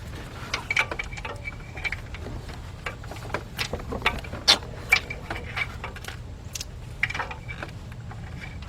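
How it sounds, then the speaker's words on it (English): A hand ratchet clicks in quick, uneven bursts while loosening a bolt in a cramped engine bay during a Chevy Equinox / Buick Rendezvous head gasket and timing chain job; the light metallic ticks are close but soft over a low background hum. "so I'm gonna have to use a regular ratchet"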